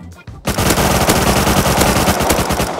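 Loud, continuous automatic gunfire from the video game Rust rattles in a rapid, dense burst after a short quieter lead-in, close and sustained with no talk over it.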